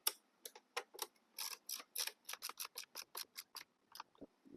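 Bottom skid plate screws on an Ultra Bee electric dirt bike being tightened with a 10mm wrench, a close run of quick, crisp metallic ratchet clicks in short bursts, quiet overall.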